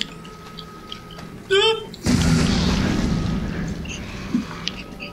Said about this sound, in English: Remote bomb.